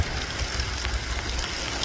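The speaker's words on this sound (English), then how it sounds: "You see how hard it's raining?" Heavy rain pours down outdoors, a dense, steady hiss of drops drumming on surfaces throughout, with low rumbling underneath and no voices.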